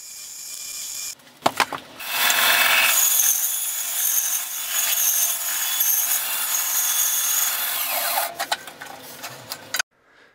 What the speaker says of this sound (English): Once I have my drill press set up, I can use a plug cutter to cut the plugs.